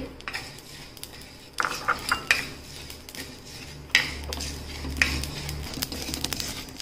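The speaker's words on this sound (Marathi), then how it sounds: "चांगलं खरपूस भाजून घ्यायचे आहेत जिरे लवंग" Cumin and cloves dry roast in a pan for homemade Bhandari garam masala, a spatula scraping and clinking against the metal in irregular bursts over a low background rumble, with no talking.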